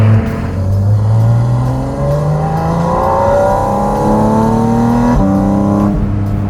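A Porsche 718 Spyder RS engine revs and climbs through its range, a raw rising howl that drops at shifts and builds again, loud and close with no talking.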